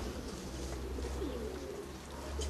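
Pigeons at a loft after the final race of the season coo softly and repeatedly over a steady low background hum, with no voices.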